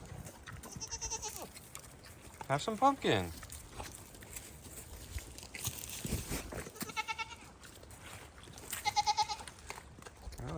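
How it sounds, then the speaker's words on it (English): Goats at an animal sanctuary bleat in several short, close calls amid rustling and crunching as they crowd around, while a person talks quietly between the cries. "All the goats are all up on me, very expectant."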